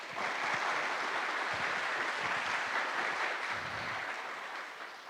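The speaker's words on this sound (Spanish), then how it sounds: "el maestro Fernández Martínez Cos, para quien pido un fuerte aplauso, por favor." Conference audience applauding for a speaker, dense sustained clapping from a crowd in a hall, steady for several seconds before tapering slightly at the end.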